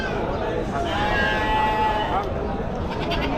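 Goats bleat at the crowded Chakan goat market in Maharashtra, one drawn-out bleat rising clearly over a dense, steady din of livestock and people talking nearby.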